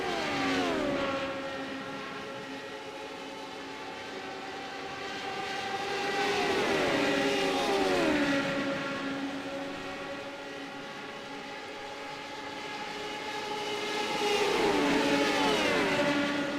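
Radical race cars at Le Mans braking down into the Mulsanne hairpin, engines screaming in layered rising and falling tones as several cars pass in waves, loud and close with no talk.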